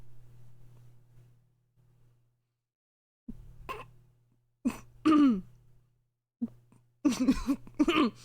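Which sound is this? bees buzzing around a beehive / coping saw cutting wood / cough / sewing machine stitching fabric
cough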